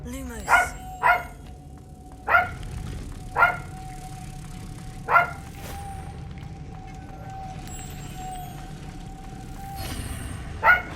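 A dog in the Hogwarts Legacy game barks in a handful of sharp, separate bursts spread across the stretch, with a steady tonal hum and low background rumble continuing underneath.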